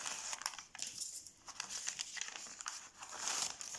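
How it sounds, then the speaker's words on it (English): Dry paper labels peeled off a painted acrylic surface, producing close, quiet crinkling and rustling with small tearing crackles throughout, no voices. "Now the reason I'm using labels is because I find that when they're dry I can peel off"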